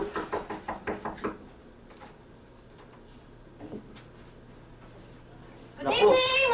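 Knocking on a door, a quick series of about six sharp raps at the start, then a quiet room with a faint hum and a soft thud, before a person begins talking near the end.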